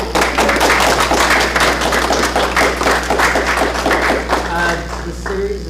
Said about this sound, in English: why don't we give another round of applause for